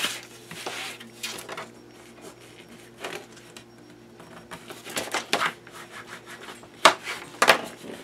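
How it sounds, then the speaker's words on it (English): Paper fold being burnished for a 6x6 mini album, with intermittent dry rubbing and scraping strokes, close and fairly quiet, in short bursts of varying length. "Really give that a good burnish, but I mean a good fold"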